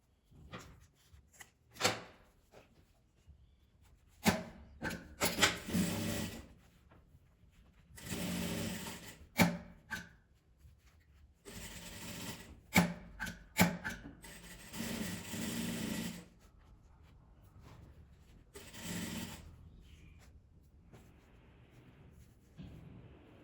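Sewing machine stitching a mini bag: short bursts of fast mechanical whirring and clatter, separated by pauses with small handling rubs and clicks, close and fairly quiet, no speech.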